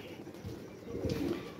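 Pigeons coo softly from a loft of about twenty to twenty-five birds, a faint low murmur heard alone with no talk.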